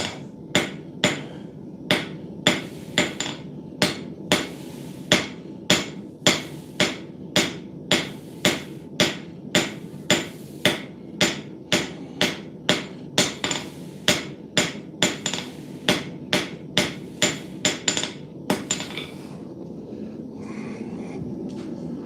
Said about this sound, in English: I like the synchronicity of using my first fully engraved hammer to forge gravers